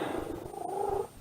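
A pet cat purrs steadily while being given a pill, a close continuous low rumble with a brief rising tonal note near the end, no talking over it.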